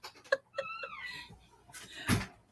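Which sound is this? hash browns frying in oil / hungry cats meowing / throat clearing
hungry cats meowing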